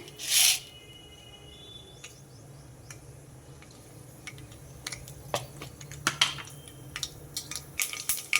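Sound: mustard seeds spluttering in hot oil

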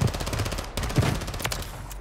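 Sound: gunfire in the video game Warzone

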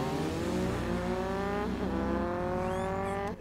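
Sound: motorbikes in The Legend of Korra episode

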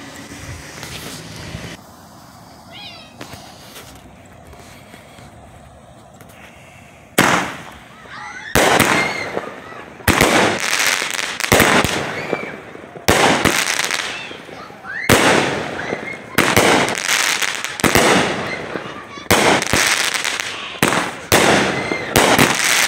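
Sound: Phantom Death Alert 12-shot firework cake going off

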